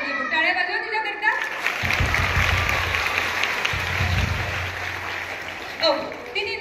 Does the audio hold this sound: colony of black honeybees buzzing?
no